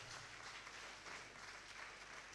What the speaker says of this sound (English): Let's do another round of applause for Togbe.